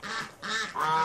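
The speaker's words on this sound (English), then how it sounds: "here's that big goose" A big goose honks loudly and close by, giving three drawn-out calls in quick succession during a backyard feeding in Seattle.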